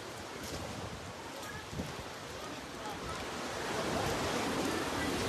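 Sea waves wash onto a clean beach in a steady, distant roar of surf that swells slightly louder toward the end, with wind buffeting the microphone and no clear voices.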